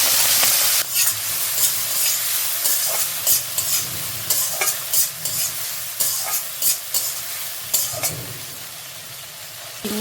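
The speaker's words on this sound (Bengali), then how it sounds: "এবার তেলটা গরম হয়ে এসে চিংড়ি মাছগুলোকে আমি ভাজা করব।" Prawns fry in plenty of hot oil in a wok, giving a steady loud sizzle with bursts of crackling and stirring clatters; no one talks.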